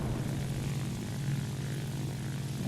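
The overheated piston propeller engine of a Ła-7 fighter in War Thunder drones continuously with a loud, low, steady rumble and airflow roar, unbroken throughout.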